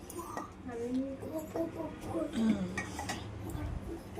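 Manchurian being served into a bowl, with dishes and cutlery clinking in a series of light, close knocks over kitchen background noise and a speaking voice.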